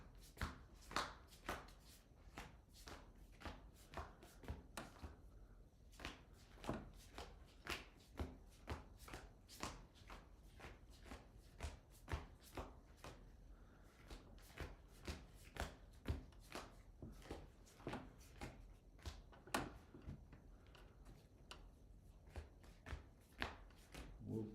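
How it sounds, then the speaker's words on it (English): Magic: The Gathering cards are shuffled by hand, with steady, repeated soft riffling and tapping strokes going on for a long stretch. The sound is faint and close, with no talk over it. "We're going to try the other way of shuffling."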